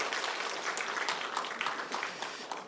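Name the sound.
applause in church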